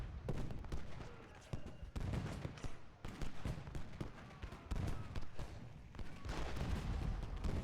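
Dense, continuous musket volleys crackle through a Gettysburg battle at Little Round Top in the Ultimate General game, overlapping shots and booming bursts rolling on without a break and no voices over them.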